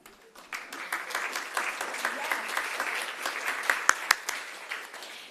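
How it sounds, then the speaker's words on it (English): An audience applauds at a research data management training session, a steady wash of many hands clapping for about five seconds with a few sharper individual claps standing out near the end. "Give yourselves a round of applause."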